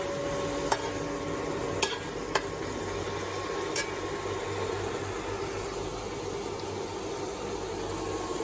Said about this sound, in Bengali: আমি ভালো করে কষাই।